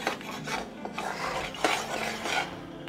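A spoon scrapes and rubs through a besan and milk mixture in a pan over a low flame, a close, steady rasping stir with occasional sharper knocks against the pan.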